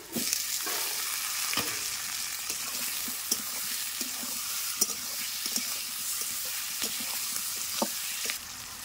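Tomatoes and potatoes fry in a pan for chicken curry, giving a steady close sizzle and hiss with occasional stirring clicks and spatters throughout.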